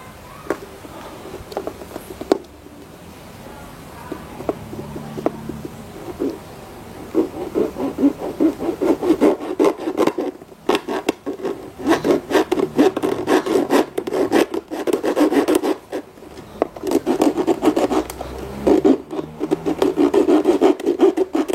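A hand saw cuts through a wire-reinforced, rat-proof gas hose in steady, close back-and-forth rasping strokes that grow more vigorous and continue for about twenty seconds without talk.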